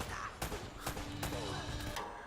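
Several sharp gunshot cracks ring out amid a first-person shooter game, Rage 2, with a fusillade of bursts spaced across a busy, continuous backdrop of game sound and a faint sustained tone.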